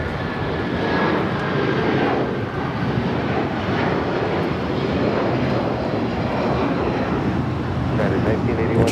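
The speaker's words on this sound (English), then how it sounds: "I believe this is Air China Cargo." A Boeing 747-400 cargo jet of Air China Cargo heading toward runway 25L at Los Angeles International Airport, giving a steady, loud broadband engine roar with wind noise throughout and faint talk underneath.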